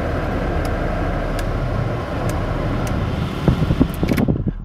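Heater blower fan running inside a Honda Civic CRX Mark 1, a steady broadband whoosh held throughout at even level, with a few faint clicks and some louder handling knocks near the end.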